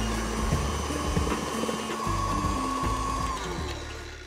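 An electric mixer running at medium-high speed whips eggs for almond cake batter. It gives a steady, fairly loud motor whir with a faint high whine, continuous and without talk.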